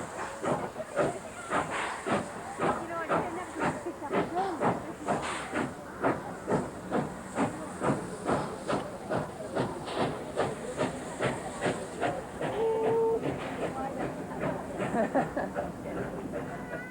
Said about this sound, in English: The American Baldwin-built 5910 was the first to steam out of Moss Vale.